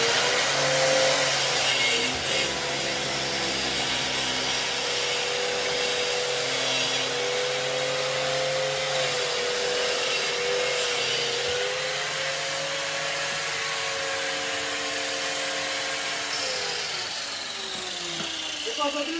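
A Zubr wall chaser cuts during electrical work in a house, with a Metabo vacuum cleaner running alongside. Together they make a loud, steady motor whine and roar that holds for the whole stretch.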